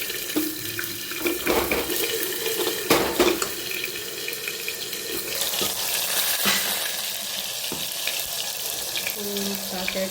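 Mustard seeds, cumin and garlic sizzle in hot oil in a pan, a steady bright crackle that holds for the full stretch with a few louder spits and stirring knocks.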